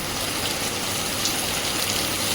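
Dense, steady wash of heavy rain falling, a uniform hiss with no breaks, fairly close and moderately loud.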